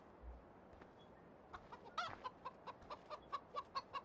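Chickens in a farmyard in Farming Simulator 15, a quick run of rhythmic clucks growing steadily louder, with an earlier squawk and scattered soft clucking against a quiet background.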